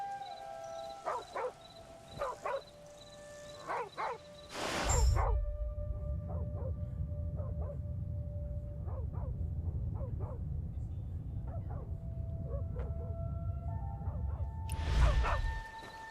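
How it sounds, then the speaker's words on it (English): A dog barks and yips in the video game Where Winds Meet, several short barks spread through the clip with game music and effects around them, followed by a low rumbling wash. "Is he arguing with a dog?"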